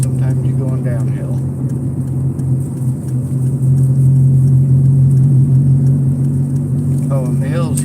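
Car engine under load on a hilly road with frequent upshifts and downshifts, a steady low mid-pitched drone and rumble that swells slightly, with brief voices near the start and end.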